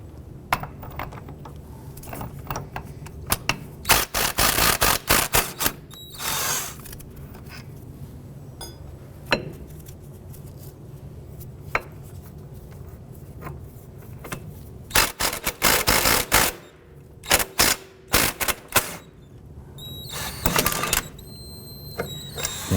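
Large 21mm caliper bracket bolts come off a Jeep Liberty brake unit, with bursts of loud ratcheting and sharp metallic clicks and clinks in clusters, separated by quieter stretches of faint handling noise, close up.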